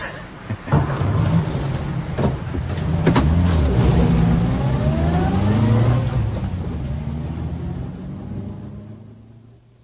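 A car engine revs during autocross driving, swelling to a loud rumbling roar with rising pitch sweeps, then fading away into the distance.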